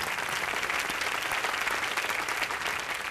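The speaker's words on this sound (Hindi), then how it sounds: "जोरदार तालियां" Steady, dense applause from a studio audience on a Hindi family game show, loud and continuous throughout with no talk over it.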